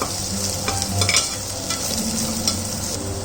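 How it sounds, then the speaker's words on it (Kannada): Fenugreek leaves fry in a pan for a green mushroom biryani, a steady close sizzle with soft stirring scrapes and occasional clinks, continuous and unbroken by voices. "ಈಗ ಮೆಂತ್ಯ ಸೊಪ್ಪು ಫ್ರೈ ಆಗಿದೆ"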